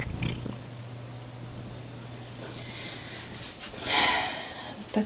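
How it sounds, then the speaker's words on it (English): A cat purrs close by in a home, a soft continuous low rumble for about three seconds, followed by a breathy sniff or snort near the end. "She's purring."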